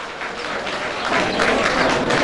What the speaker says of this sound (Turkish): Alkışlarımızla uğurluyoruz